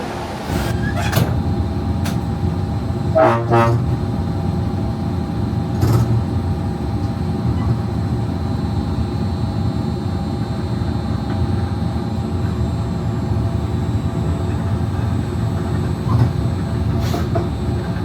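Disneyland Monorail running on its newly re-opened route, heard from the nose cab on a 2.5-mile trip to Downtown Disney Station: a steady, close onboard rumble with a cluster of rattling clunks early on and scattered faint clicks.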